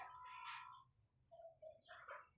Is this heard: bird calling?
yes